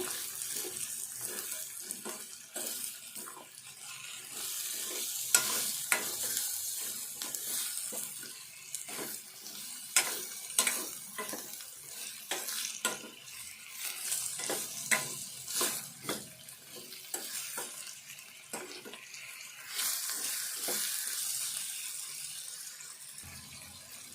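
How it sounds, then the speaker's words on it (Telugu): Ridge gourd pieces fry in a pan for a ridge gourd and moong dal curry, a steady sizzling hiss broken by frequent scraping stirs of the spatula, close and moderately loud, with no talking. "బీరకాయ ముక్కలు కూడా వేపుకోవాలి."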